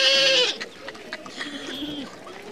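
Goats bleating in a drought-stricken setting, one loud harmonic bleat at the start followed by quieter, fainter animal calls and rustling farmyard background.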